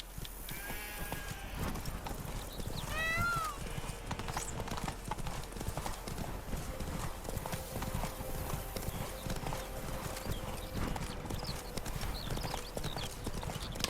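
Horse hooves clip-clop in a steady rhythmic gait in a video game, with a short whinny early on and faint background game ambience throughout.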